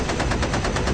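A waist gunner's machine gun from an air combat board game sound effect fires in one rapid burst, with evenly spaced shots hammering loud and close for about a second, and no voices.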